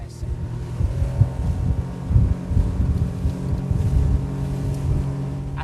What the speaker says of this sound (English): Let's try the top performance of the Voyager 18S now.